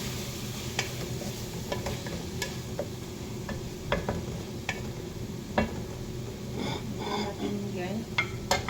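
Chicken frying in a pan and being stirred, with a steady sizzle underneath and scattered close scraping and tapping knocks from the utensil at irregular intervals.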